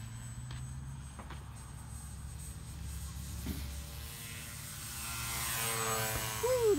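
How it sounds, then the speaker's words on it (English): An E-flite Timber radio-controlled model airplane flies overhead, its electric motor a steady, moderately distant drone that swells and rises in pitch toward the end as it passes closer, with faint outdoor background noise. "that's a nice flying plane"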